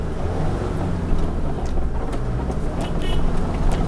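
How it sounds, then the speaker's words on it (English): An oncoming vehicle's engine rumbles steadily at close range on a dirt track in Grampians National Park, a continuous low drone with faint rattles over rough ground. "We've got a vehicle coming down at us."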